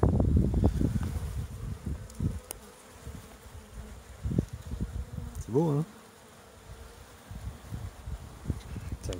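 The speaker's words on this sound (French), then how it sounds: "Ça déborde d'abeilles." Dense buzzing of a honey bee swarm overflowing a beehive in April, steady close insect hum with rustling and handling noises, and a person speaking briefly over it.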